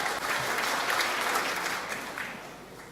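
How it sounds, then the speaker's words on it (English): Audience at a college graduation ceremony applauds in a dense, steady wash of many hands, loud and even before gradually fading toward the end. "Kind of killed that round of applause there, didn't I?"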